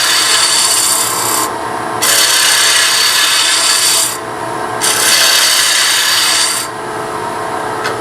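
A lathe tool cuts a wooden Christmas ornament, giving a loud, continuous close rasping hiss that briefly dips in intensity twice as the cut shifts.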